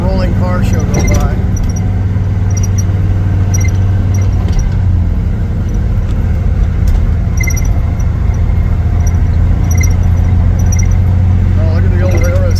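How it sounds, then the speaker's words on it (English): A long parade of classic cars on a touring drive across Nebraska rolls past, a continuous loud blend of engine drone and road noise with occasional squeaks and tonal whines. "Watch the rolling car show go by."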